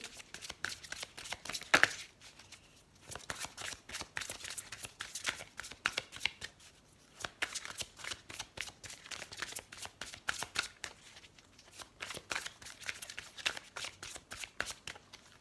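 Tarot cards are shuffled by hand close to the mic, a long run of quick riffling and flicking bursts with short pauses between, soft and without talk.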